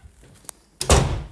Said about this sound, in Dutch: Kijk, deur kan gewoon nog dicht.